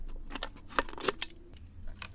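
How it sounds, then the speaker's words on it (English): Scissors cut through a plastic bottle in several crisp, crunchy snips spread irregularly over about two seconds, close and fairly loud with no talking. "I just took a pair of scissors and I went up to the top of the bottle like this."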